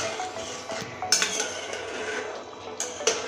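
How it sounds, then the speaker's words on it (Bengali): A spice mixture for a vegetable curry is stirred in a metal pan, with a spoon scraping steadily and giving a few sharp clinks against the pan, close and alone without talk. "এবার সুন্দর মতো নেড়ে নেব"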